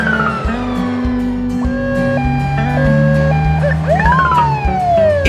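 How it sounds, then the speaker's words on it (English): French police car siren sounding a loud, close two-tone alternation of stepped high and low notes, ending in a rising wail, over steady traffic rumble. "France, police car."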